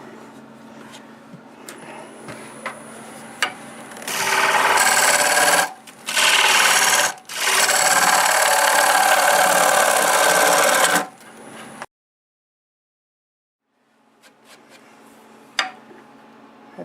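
A wood lathe gouge cuts into a spinning Siberian elm bell blank with burls, giving loud raspy shaving bursts broken by brief pauses, then a gap of silence and quieter ticking of the lathe.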